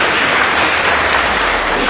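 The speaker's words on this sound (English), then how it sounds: "Please give them a round of applause." Studio audience clapping for a school debate team, a short, dense, even burst of applause heard close and alone.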